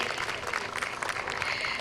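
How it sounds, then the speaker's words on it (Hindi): Audience at a TV serial preview event clapping in a short, dense burst of applause, heard alone and somewhat distant. "प्लीज यहाँ बैठे हर भारतीय को एक बार ताली बजाना तो बनता ही है।"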